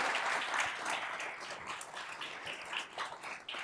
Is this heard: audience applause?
yes